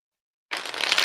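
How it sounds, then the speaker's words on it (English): A deck of tarot cards is shuffled vigorously, a dense papery riffle that starts abruptly after a short silence and continues steadily to the end, with no voices. "I know I don't normally shuffle these this way, but I need to get them shuffled good."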